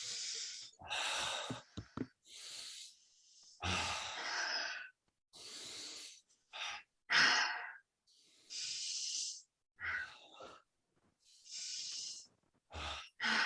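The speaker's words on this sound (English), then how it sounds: "Breathe in, fully in." Slow, deep breaths during a guided breathing exercise, several long inhales and exhales with brief pauses between them, close and clear with no talking.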